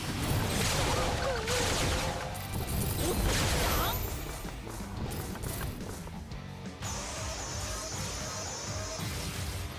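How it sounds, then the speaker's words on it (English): A soul bomb special attack in the mobile action game Bleach Brave Souls, a sustained dense barrage of crashing, explosive impacts and layered effects that stays loud throughout, easing slightly midway. "Here's a soul bomb again."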